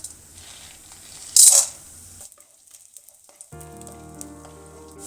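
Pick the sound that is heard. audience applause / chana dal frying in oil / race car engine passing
chana dal frying in oil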